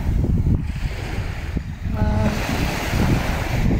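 Surf washing onto Karavostasi beach on Greece's Ionian coast, a steady broadband rush of breaking waves with gusty wind noise across the microphone, continuous and fairly loud throughout with no voices.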